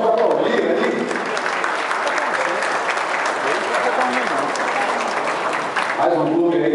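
A crowd at a fashion show where models parade in football club jerseys claps loudly and continuously, a dense, sustained wash of applause with faint voices mixed in.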